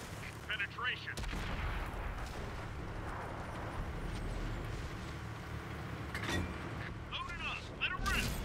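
Tank cannon fire in World of Tanks on Xbox One, sharp booming shots near the start and end over a continuous engine rumble and battle noise, with game voice callouts heard in between.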